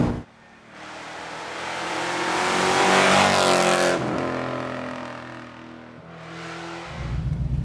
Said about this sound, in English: The downshifts as well, you can blip it so quick.